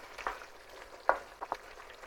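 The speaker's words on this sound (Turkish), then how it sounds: "Et pokur pokur kaynıyor." Beef sizzles and pops softly in a pan as it sautés, with a few brief crackling bursts over a quiet bubbling background.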